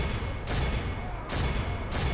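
Crossbows loosing a volley from castle walls in Medieval 2: Total War, heard as two or three loud broadband bursts of massed release over a steady battlefield rumble, no talk.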